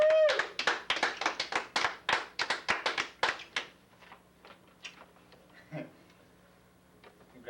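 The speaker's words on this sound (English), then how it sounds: "your guests are going to give you a big round of applause" A small group of wedding guests clapping in a Las Vegas chapel, a brief burst of close, distinct claps that thins after a few seconds into scattered taps and quiet room sounds.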